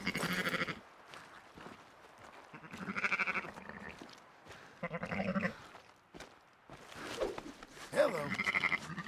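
Sheep on a Red Dead farm let out a run of loud, wavering bleats in separate bursts, the calls overlapping and coming from close by with brief quiet gaps between.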